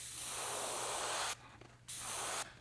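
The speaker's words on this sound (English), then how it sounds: "I just pay more attention to how it sprays and how the paint comes out of the gun" Paint spray gun spraying paint onto a crappie fishing lure, running at about 17 psi: a steady close airy hiss in two long bursts separated by a short pause, with a third burst beginning at the end.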